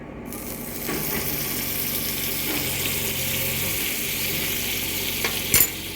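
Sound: mixing pizza topping with broccoli and cheese

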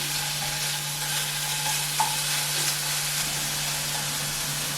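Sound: meat frying and stirring over high heat

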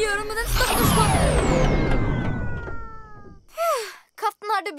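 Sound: cartoon cat meowing

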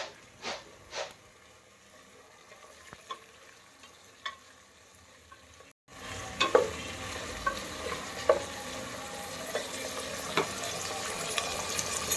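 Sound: vegetables frying and being stirred in oil

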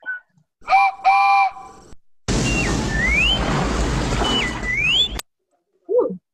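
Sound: train whistle sound effect

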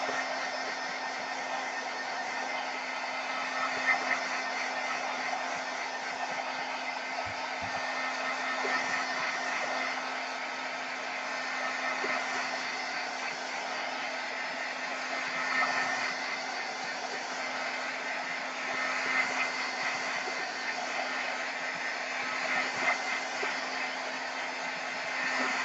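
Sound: hair dryer drying paint on Tyvek envelope

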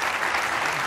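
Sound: applause

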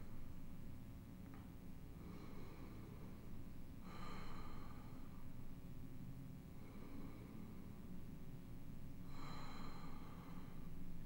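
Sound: big deep breaths during seated chair yoga

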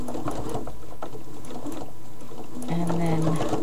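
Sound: sewing machine stitching cloth doll

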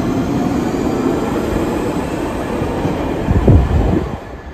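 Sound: underground train departing from platform

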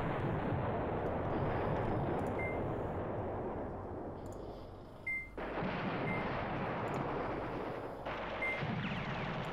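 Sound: artillery bombardment in the video game Command Ops 2

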